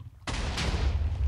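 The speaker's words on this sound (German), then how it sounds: "ob es funktioniert, wenn ich nochmal mit der Kanone hier schieße" A cannon booms in Minecraft with one loud sudden blast that rolls into a long, rumbling echo.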